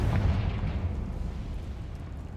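A Confringo fire spell explodes in Hogwarts Legacy, a heavy low boom that bursts at the start and rumbles away slowly over a couple of seconds.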